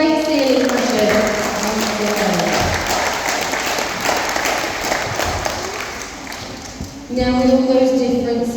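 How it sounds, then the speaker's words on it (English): Crowd applause at a sea lion show at a safari park, a sustained patter of clapping from the audience while a presenter talks over it, with the voice strengthening again near the end. "What do you give Louis a little round of applause?"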